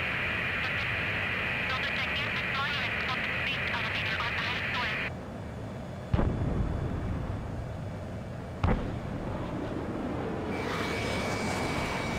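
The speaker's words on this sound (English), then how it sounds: "Missile away." A missile fired from an F-15E Strike Eagle in the Ace Combat 7 video game, heard as a loud, steady jet engine roar that cuts to a quieter rumble, with two sharp bursts and radio-style chatter over it.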